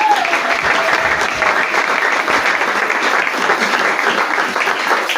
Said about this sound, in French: Est-ce qu'on peut acclamer très fort Jésus-Christ?